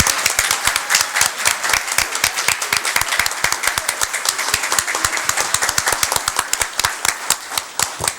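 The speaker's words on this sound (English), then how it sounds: "So let's give her a round of applause." People at a board meeting clap in a sharp, close patter for a scholarship recipient, with individual claps clearly distinct, sustained for about eight seconds.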